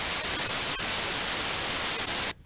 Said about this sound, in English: White noise plays all frequencies equally loud.